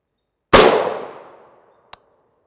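A single loud, close gunshot fired at an RTS Tactical Level III+ armor plate rings sharply and decays over about a second, followed by a small faint click.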